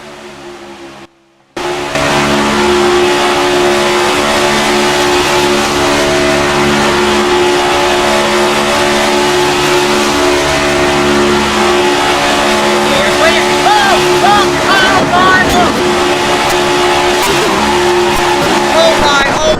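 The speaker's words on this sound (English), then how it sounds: "Let's go on board with Christian Eccles here on lap 2 out of 35" Onboard a stock race car lapping Daytona in a 300-lap series race, the engine roars loud and sustained at full throttle, with the pitch shifting slightly, under constant commentary.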